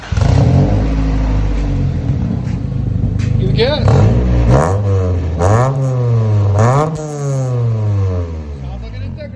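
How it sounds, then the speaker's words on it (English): A 1994 Acura Integra with a single stainless steel muffler revs up several times, the exhaust climbing and falling in pitch in repeated bursts. A loud, close rasp sits under nearby voices talking. "Sounds like an Integra again."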